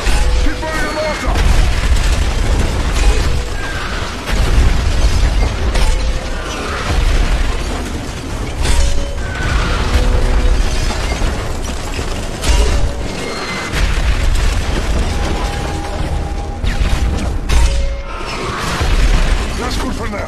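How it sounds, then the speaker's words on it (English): Video game mortar shells fire and burst during a village assault, dense heavy booms and mechanical clanks rolling under loud shouted voices and a constant battle din. "Keep firing the mortar!"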